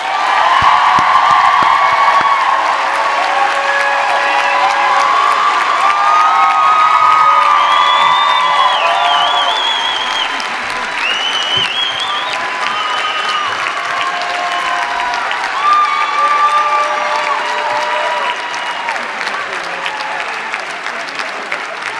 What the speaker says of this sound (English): And I think we have cause for another round of applause for the class of 2023.